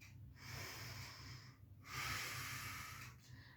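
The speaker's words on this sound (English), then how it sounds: "Now inhale and exhale." Slow, deep yoga breathing close to the microphone: long, airy inhales and exhales follow one another in an even rhythm, separated by brief quiet pauses.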